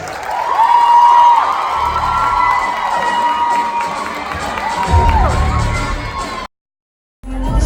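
A crowd at the 2019 Galaxy Pageants event cheers, whoops and shouts loudly and continuously, with high-pitched voices standing out. The noise cuts to brief silence near the end, then picks up again.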